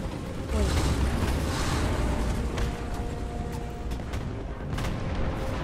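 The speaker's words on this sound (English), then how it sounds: "Artillery fire." Artillery fire in the War Thunder video game: several sharp, booming blasts land across a constant roar of wind and engine noise, with thuds scattered through the mix.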